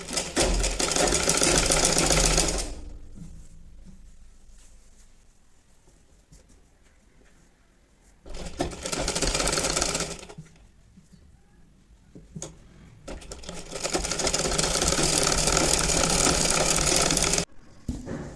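A sewing machine topstitches around the neckline of a baby dress, running in three loud, steady mechanical bursts separated by quiet pauses.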